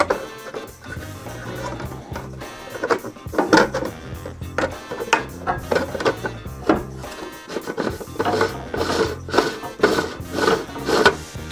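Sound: fixing the lid onto a 3D-printed bird seed feeder

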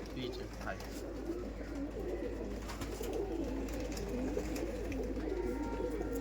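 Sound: Punjabi pigeons cooing

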